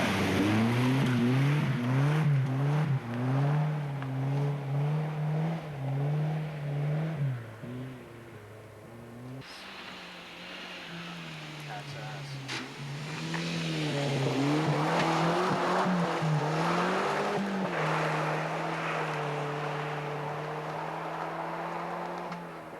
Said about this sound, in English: Brad Usherwood and Dave Defoe in the Dodge Colt Turbo.